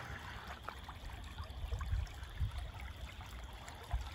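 Creek water flowing under a wooden park bridge, a quiet, continuous trickling and burbling, soft and steady, with a faint high insect-like trill behind it.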